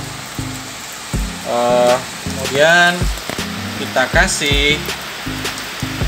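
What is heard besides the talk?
rain falling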